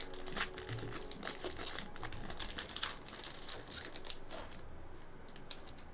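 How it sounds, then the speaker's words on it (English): Trading card foil packs being ripped open by hand: continuous crinkling and tearing of wrapper, close and busy, with bursts of sharper rips throughout. "It's just when you rip the packs like this."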